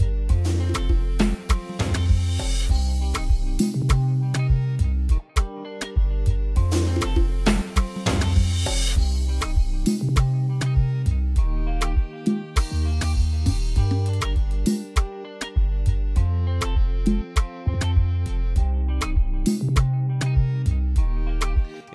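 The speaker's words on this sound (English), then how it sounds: "It is a nice Afrobeat combined with some compa and maybe kizomba." An Afrobeat guitar beat made in FL Studio, blending in compa and kizomba flavour, plays steadily with punchy drums, a bass line and plucked guitar riffs, loud and continuous with no voices.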